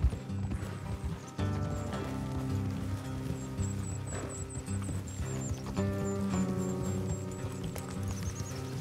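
Horse hooves clip-clop steadily alongside an occasional whinny in Red Dead Redemption 2, set against game music and a light patter of rain, with the riding continuous and fairly close throughout.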